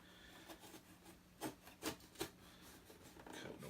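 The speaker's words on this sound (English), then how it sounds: "Cutting away the sticker." A blade cuts away a sticker on a damaged shipping box, giving a few faint rubbing, scraping strokes in a quiet room.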